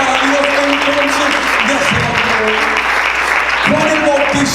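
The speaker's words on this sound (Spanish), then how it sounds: "Ese aplauso no es para mí, ese aplauso es para Dios." A church congregation applauds loudly and continuously, with a dense wall of clapping and a few voices rising through it.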